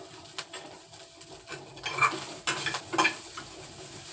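Food frying in a home kitchen pan with only salt added, a soft steady sizzle with scraping stirs and a few sharper clinks near the middle, birds faintly chirping in the background.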